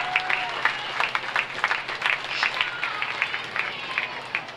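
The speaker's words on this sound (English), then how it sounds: "Let's give her a round of applause." A crowd applauds at a county fair swine show, moderate and a little distant, with scattered individual claps over a continuous patter that rises and falls.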